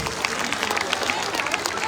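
A concert audience applauding at the Bardhaman Magh festival, a steady wash of dense clapping and crowd noise with a person talking over it.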